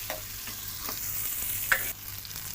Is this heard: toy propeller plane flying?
no